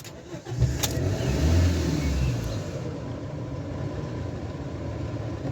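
Campervan engine cranking and catching, then revving up loudly before dropping back to a steady idle, heard up close.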